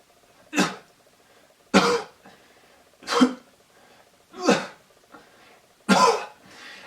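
A person gives five harsh, separate coughs at regular intervals, each a short burst with quiet breathing between, close and loud.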